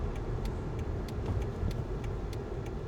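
Engine of a 2005 BMW Z4 Roadster rumbling steadily from inside the cabin while downshifting on the road, a low continuous drone with faint periodic ticking over it.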